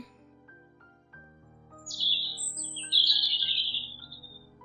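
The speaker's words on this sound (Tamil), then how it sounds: "குருவி கீச்சிடும்" Sparrow chirping in short bright bursts over a soft background of sustained musical notes, the calls growing louder and clearer toward the end.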